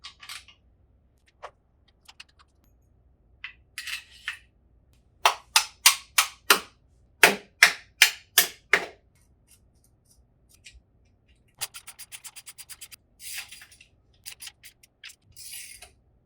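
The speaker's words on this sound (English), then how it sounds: "Leave one washer on one side, feed it through, put another washer on the other side," Bolts, washers and nuts being fitted on a Wired Off-Road GK-85x bike, heard as scattered metallic clicks and a couple of quick bursts of rapid ratcheting taps, close and isolated against near silence.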